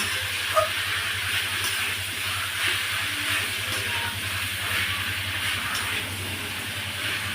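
Malabar spinach leaves frying in a pan, a dense, even hiss of sizzling oil with a low steady hum beneath, continuous and close, with no speech.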